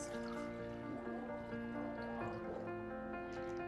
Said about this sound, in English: You're going to grab your water and fill up your vase.